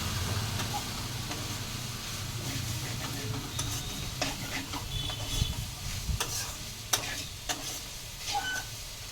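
Drumstick flowers frying beside a fish curry with aubergine and potato, a steady sizzle with spatula stirring and scraping against the pan and a few sharp clinks, no talking.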